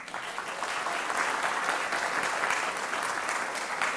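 Steady applause from the audience at a mayoral housing debate, dense and even clapping that holds at a constant level for the full four seconds with no voices over it.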